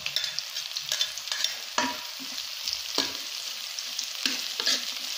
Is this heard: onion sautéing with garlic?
yes